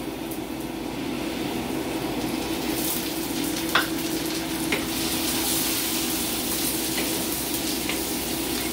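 Onions fry in olive oil in a pan, a steady close sizzle with a couple of faint clinks from a spoon and no talking.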